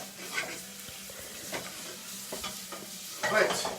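Onion sizzling in a pan for a curried neep soup, a soft, steady fry with intermittent scraping stirs rising near the end, close up and without talk.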